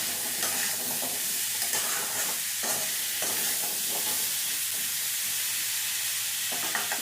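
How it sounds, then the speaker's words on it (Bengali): Diced carrot, beetroot and potato are stirred with salt and turmeric in a hot pan: a close, continuous sizzle broken by rhythmic scraping strokes, with no voices. "ভালো করে সবজির সাথে লবণ আর হলুদটা মিশিয়ে নিলাম"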